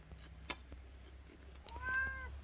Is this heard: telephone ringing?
no